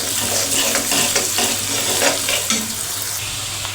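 Onions fry in a pan with a loud, close sizzle as they are stirred, spoon scrapes and soft clatter recurring over the steady crackling hiss for a few seconds, no voices.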